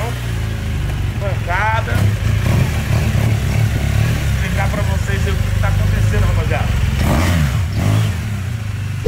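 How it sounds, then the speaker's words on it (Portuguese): Motorcycle engine droning steadily beneath someone talking close by through the whole ride, with occasional rising revs and wind-like rumble. "nada melhor do que dar um rolê de moto"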